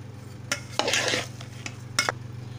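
A spoon stirs and mashes a puran filling mixture seasoned with nutmeg and cardamom, giving a few soft scraping strokes in short bursts over a low, steady background hum.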